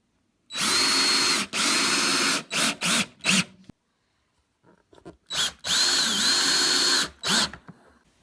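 A power drill driving screws to fix a hinge onto a homemade metal cut-off saw, in two long whirring runs, each ending in several short trigger bursts, with a quiet pause between them and no talk.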